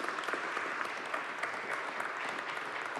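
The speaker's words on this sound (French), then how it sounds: "Merci encore Isabelle Iderkrivski, on vous applaudit." Conference audience applauding a speaker at a session on women's rights in the French overseas territories, continuous fairly distant clapping from a crowd with no voices.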